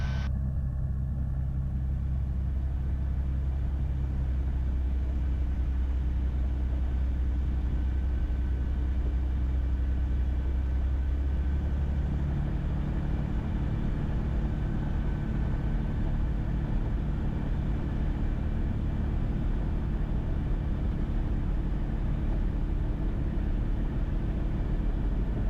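Steady low engine rumble from a Cirrus SR20 single-engine light airplane taxiing toward the runway at Camarillo Airport, a continuous droning hum heard from inside the cabin with a slight shift in tone partway through.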